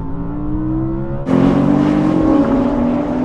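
Racing car engines roar in a video game race featuring a Porsche, a Nissan GTR and other cars, a steady droning whine that jumps abruptly louder and brighter partway through as revs climb, with no talk.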